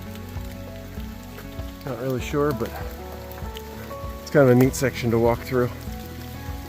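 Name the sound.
rain falling on hiking trail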